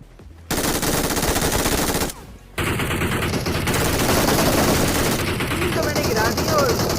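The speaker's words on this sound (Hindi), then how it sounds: "निकालो भैया अपनी MG3" An MG3 machine gun fires in the PUBG video game in long, rapid sustained bursts. The loud, close gunfire breaks off once briefly, with game effects and a player's voice mixed in.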